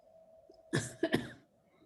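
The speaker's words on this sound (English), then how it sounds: "This is a COVID vaccine cough." A single close, dry cough from a COVID vaccine reaction, in two quick bursts, alone against a quiet background with a faint steady hum.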